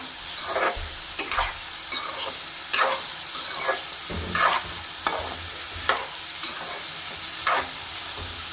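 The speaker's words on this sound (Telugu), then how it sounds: "ఇదే ఆయిల్లోనైతే బీరకాయలు అయితే వేపుకుందాం" Ridge gourd frying in oil gives a constant hiss, while a utensil scrapes and stirs the pan at a steady rhythm, close by with no talking.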